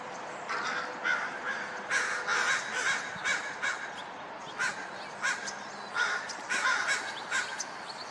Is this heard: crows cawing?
yes